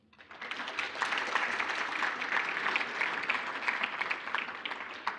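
Round of applause from an audience at an accountability and justice event, clapping swelling in quickly then holding steady and dense for several seconds, with no voices over it.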